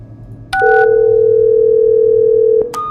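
In the video game Don't Fret, a short dialing beep is followed by a steady, loud telephone tone lasting about two seconds, which cuts off with a click before another brief tone starts.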